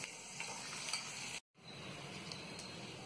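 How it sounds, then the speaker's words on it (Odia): Raw peanuts fry in hot oil with a steady crackling sizzle and faint stirring clinks, briefly cut to silence before the sizzling resumes, close and continuous. "କଞ୍ଚା ବାଦାମ ଥିଲା, ମୁଁ ତାକୁ ତେଲ ଗରମ ହେଇଥିଲା, ମୁଁ ତାକୁ ଏବେ ଭାଜି ଦେଇକି କାଢି ଦେଉଛି"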